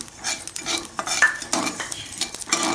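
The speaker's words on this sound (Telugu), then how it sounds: "దీంట్లో వేసుకొని డ్రై రోస్ట్ చేసుకోవాలి. వీటితో పాటు నువ్వులు కూడా వేసుకోండి" Cloves, cinnamon, pepper and sesame seeds dry roasted in a pan over low flame for a stuffed eggplant curry, with steady scraping and clinking of a metal spoon against the pan, close and continuous, no talk.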